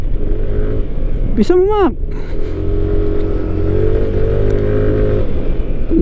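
A motorcycle engine labours steadily up a dark mountain road in Tinoc, Ifugao, with one sharp rising rev midway, under a voice speaking.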